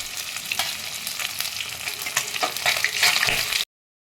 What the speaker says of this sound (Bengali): দেখো আমার মাছ ভাজা হয়ে গেছে লাল লাল করে।